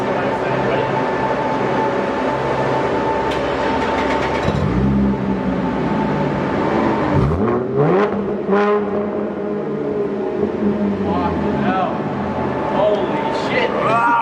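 A car with a new aftermarket exhaust revs from idle, its engine note rising and falling in several sweeping pulls over a constant rumbling background, with voices talking nearby.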